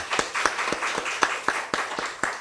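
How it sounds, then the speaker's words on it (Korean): A small church congregation claps in encouragement, a sparse, loosely rhythmic run of distinct individual claps, fairly close and clear. "이제 하나님께서 우리 두 분을 위해 격려의 박수 보내주시기 바랍니다."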